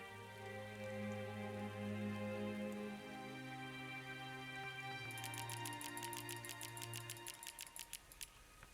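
Gentle rain falls in the video game Starbound, a soft patter beneath sustained musical tones, with rapid ticking drops growing more distinct toward the end; no one speaks.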